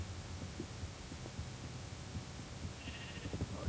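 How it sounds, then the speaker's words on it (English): Sheep in a Minecraft-style modern survival game bleat once near the end, a short tonal call over a low, throbbing hum of game ambience. "Oh, why is there got to be 9 billion sheep?"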